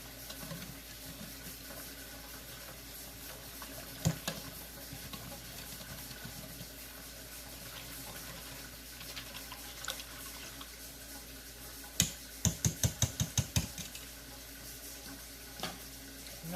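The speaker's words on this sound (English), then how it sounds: "And then whisk all that together." Yogurt mixture whisked in a pot for cold-start Instant Pot yogurt, a soft continuous stirring swish with faint liquid sounds, ending in a quick run of sharp whisk taps against the pot rim, no talking.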